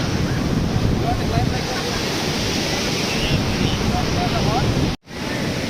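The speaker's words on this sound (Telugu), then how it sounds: "అలలు వచ్చి లాక్కొని వెళ్ళిపోతూ ఉంటాయి" Sea waves wash onto Mypad beach near Nellore in a continuous rushing surf, with wind buffeting the microphone and a brief dropout near the end.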